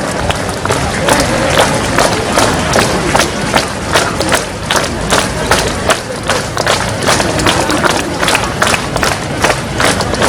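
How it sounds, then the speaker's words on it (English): A crowd at a district inauguration ceremony in Pangin welcomes special invitees with loud, close applause, sharp rhythmic claps and thumps mixed with crowd noise and voices. "I request everyone to please welcome them with a big round of applause."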